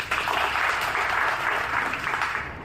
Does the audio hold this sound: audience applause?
yes